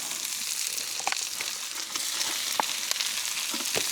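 Meat hitting a pan of golden-brown onions, sizzling steadily up close with a few sharper pops and stirring scrapes scattered through.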